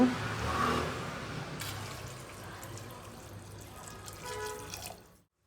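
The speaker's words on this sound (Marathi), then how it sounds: "आता आपण गरम करून घेतलेलं पाणी चिकनमध्ये घालू" Heated water poured from a vessel into chicken sautéing in a pressure cooker pan, a steady liquid splash and trickle running close up for about five seconds before cutting off.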